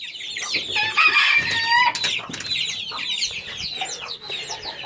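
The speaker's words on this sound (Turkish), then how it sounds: "bu kafesin içinde de baya bir ispenç var" Several İspenç roosters crow and cluck together at close range inside a cage, a busy overlapping chorus of calls from a flock.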